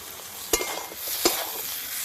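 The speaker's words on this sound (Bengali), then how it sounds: "এবার মশলার সঙ্গে আলুও খুব ভালো করে কষে নেব।" Spices, potatoes and chopped tomato fried together in a pan for a Bengali fish curry, a steady sizzle broken by two sharp scraping stir strokes, close and fairly loud with no talking.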